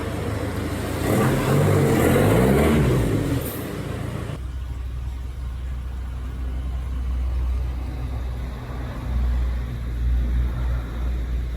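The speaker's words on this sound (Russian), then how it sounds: "Все, колумбийская машина на ходу." A car engine in Colombia, just back running after a driveshaft repair, runs steadily with a low rumble, louder and rougher at first as it revs, then settling into a constant hum.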